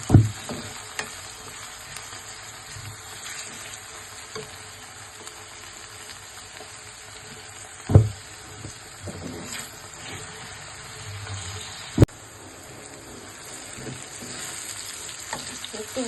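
Onion frying in a pan for a salted hilsa fish dish, a steady low sizzle broken by a few sharp clatters of stirring near the mic, with no talking.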